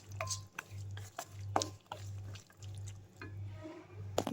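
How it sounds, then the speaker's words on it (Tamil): Rajma masala (a kidney bean kootu) is stirred and sautéed in a pan, with repeated short scraping strokes over a steady low hum, close and fairly quiet. "இப்போ நல்லா வதக்கி விட்டுருங்க."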